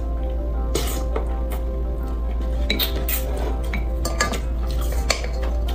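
A large spoon scrapes and clinks against a pot and plate while spicy hot food is served out, with irregular close metallic knocks and scraping over a constant low hum.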